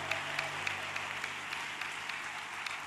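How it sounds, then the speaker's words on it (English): Church congregation giving a hand-clap offering during a worship service, a steady wash of many hands clapping at moderate distance, fairly soft and continuous without any talk over it. "Let's give him one big hand clap offering"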